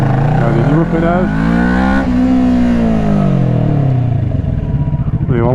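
A motorcycle engine revs loud and close, its pitch rising and then falling as the bike slows, during a braking test in a Suzuki SV650 versus Kawasaki ER-6n comparison.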